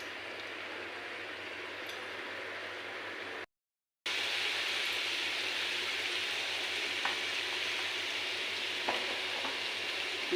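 Food sizzling hard in a hot pan while cooking, a dense continuous frying hiss with small pops, interrupted by a brief gap of silence.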